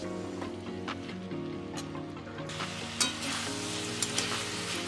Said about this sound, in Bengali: সমস্ত উপকরণ আমার ভালো করে ভাজা হয়ে গেছে এবারে দিয়ে দেবো